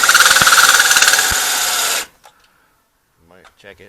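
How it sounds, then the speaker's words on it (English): A power drill whines loud and steady while drilling during rear brake work on a Ford F-150, then cuts off abruptly, followed by brief clicks and a short stretch of talk. "So drill it in."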